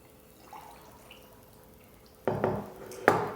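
A cup of water is poured into a container for a kitchen science experiment about sugar dissolving, heard as two brief, close splashing bursts near the end after quiet background and faint clinks.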